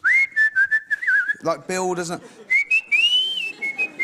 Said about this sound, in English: You don't like whistling?